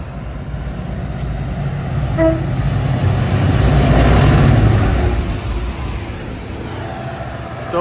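A freight train rumbles past nearby between Mytholmroyd and Sowerby Bridge, its clatter swelling to a roaring peak midway and fading, with a brief horn toot early on.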